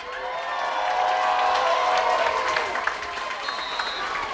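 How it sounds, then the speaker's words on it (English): Crowd applauding and cheering for the Westwood cheerleaders during a high school football game against Norwood, a steady wash of clapping and voices filling the stands for several seconds, with a whistle-like tone near the end. "Westwood cheerleading crew getting a nice round of applause."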